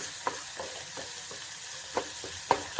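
Onions sautéing in a pan for a green gram puttu breakfast give a gentle, steady sizzle with rhythmic spatula scrapes and taps every half second or so, close and moderately quiet, with no talking.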